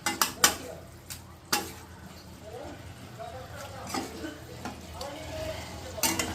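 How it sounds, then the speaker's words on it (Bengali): Fried fish is stirred into a spice masala in a pan for homemade dahi katla, with soft scraping and clinks of a spoon against the pan over a low sizzle, and a few sharper knocks near the start and end. "দিয়ে মশলার সঙ্গে আমি মাছটাকে মিশিয়ে দেব।"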